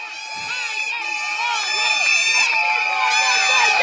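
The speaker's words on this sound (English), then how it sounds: "Let's hear the crowd again." A stadium crowd roars at a live cricket match after a wicket falls, with loud, steady droning horn-like tones over a dense wash of cheering voices that builds slightly.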